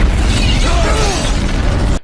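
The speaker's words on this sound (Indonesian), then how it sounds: "mobil sang jenderal pun meledak" A general's car blowing up: a loud, continuous roaring blast with crackling debris and a brief descending tonal whine, sustained at high level throughout.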